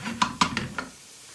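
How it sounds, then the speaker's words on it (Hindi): Chunks of mutton dropped into a hot pot over a full flame for a zucchini curry, giving four sharp clattering knocks over a low steady sizzle that fades out. "तो सबसे पहले हम इसमें गोश्त ऐड करेंगे।"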